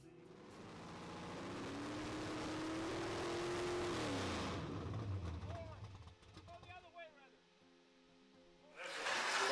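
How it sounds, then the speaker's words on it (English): Car engines rev loudly at a car club gathering, one climbing in pitch then dropping away, followed by quieter mechanical noise and scattered voices before another engine surges near the end. "this time I heard engines revving"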